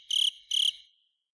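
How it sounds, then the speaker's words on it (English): A cricket chirping sound effect: two crisp, bright chirp bursts in quick succession, then fading to silence, loud and clean with nothing else heard. "Nothing but crickets, guys."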